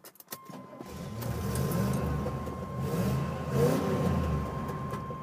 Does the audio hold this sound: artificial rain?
no